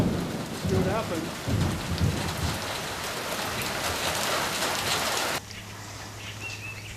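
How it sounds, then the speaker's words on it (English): Hail and rain fall steadily on an off-grid village, a dense hissing patter with a few heavier knocks early on, easing to a softer, quieter wash near the end. "A little bit of hail. See what happens."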